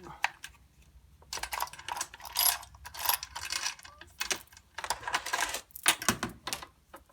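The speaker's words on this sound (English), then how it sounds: "just very carefully just slide it off your bar and off the chain sprocket" A chainsaw chain being worked off the guide bar and drive sprocket by hand, giving a run of close metallic clicks and light rattling bursts that come and go in irregular clusters.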